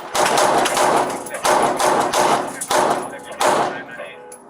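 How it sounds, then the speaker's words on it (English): Gunfire from a suspect directed at police officers comes as repeated heavy bursts of loud cracking shots, roughly four clustered volleys in quick succession, close and harsh. "Where's he shooting from?"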